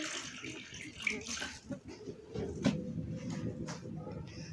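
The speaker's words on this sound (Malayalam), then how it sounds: "അല്പം വെള്ളമൊഴിച്ചു കൊടുക്കുക." Water poured into a pan of jaggery melting on the stove, a steady close splashing and running wash with a few clinks, lasting throughout.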